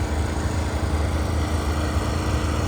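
A turbocharged Predator 670cc engine in a rail dragster with Haltech EFI roars continuously at high revs near the rev limiter on the track, a loud, steady, slightly rough drone throughout.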